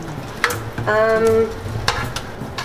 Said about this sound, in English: I've got the meat in here, and now I'm just mixing it up.